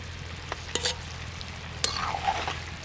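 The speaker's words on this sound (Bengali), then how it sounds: "ভেজে রাখা চিংড়ি মাছগুলো দিয়ে দিচ্ছি।" Fried prawns are added to young gourd cooking in a pan, giving a quiet low sizzle with a couple of sharp utensil clinks and scrapes.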